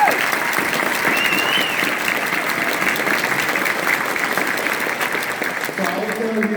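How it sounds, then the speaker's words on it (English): An audience gives teachers a big round of applause at an awards ceremony, sustained and fairly loud clapping that fills the room evenly, with a voice briefly starting up just as it tails off. "I wanted to give you a real big round of applause"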